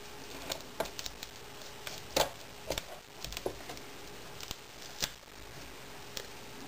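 Sharp scissors snip through a vinyl 3-ring binder in scattered, close crisp clicks and cuts, irregularly spaced over a quiet background.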